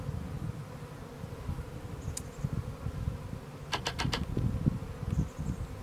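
Bees buzz around a beehive as it is moved into place, a low continuous droning hum nearby with a few brief higher chirps over it.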